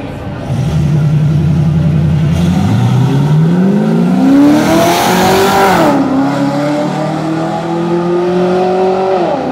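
A black Camaro and a Black Ops Mustang street race: loud engines roar and rev up through rising gears, tires squealing, sustained and close throughout.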